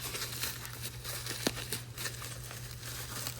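Packaging around Sanderson shorty headers for a 1966 Ford Country Sedan wagon being unwrapped, soft continuous crinkling and rustling with one sharper crackle, close but quiet over a low hum.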